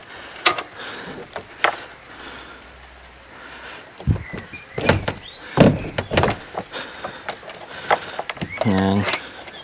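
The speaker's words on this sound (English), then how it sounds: "So we'll shut the door." Wooden shed door being handled and shut, with several knocks, scrapes and thuds spread across the stretch, including a sharp clunk near the middle and a rattling latch toward the end, close and fairly loud.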